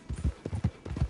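Horse hooves clip-clopping in a steady walking rhythm, six or so close, solid thuds in pairs, alone with no talk.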